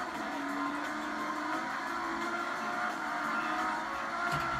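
Racing car engine sounds from a video game play continuously and fairly loudly, a steady droning mechanical roar with no speech.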